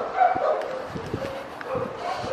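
Dogs at an animal shelter bark and yip in short bursts amid a busy background, several animals at mid distance, with people talking over them.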